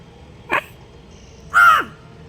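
A crow caws twice nearby, a short harsh call followed a second later by a louder, longer caw, against quiet outdoor background.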